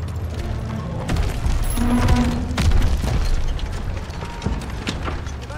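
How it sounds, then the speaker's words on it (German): In the Call of Duty WW2 Operation Cobra mission, allied tanks roll over trenches with deep mechanical rumbling, clanking treads and distant booms, with muffled shouting in the battle noise. "Verbündete Panzer kommen über die Gräben!"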